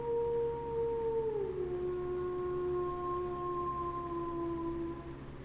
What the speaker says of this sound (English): Oh, that's a wolf.